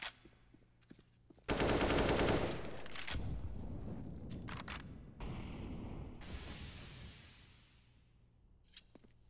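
Counter-Strike gunfire on Mirage shot through a wall, a sudden loud burst of automatic fire followed by scattered shots and breaking sounds, then a quieter tail with a faint late shot.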